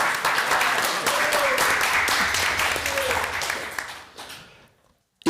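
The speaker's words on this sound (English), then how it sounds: "Can you give a round of applause," An audience at a school board meeting breaks into dense, sustained applause that holds for about four seconds before fading quickly to near silence, with some voices mixed in.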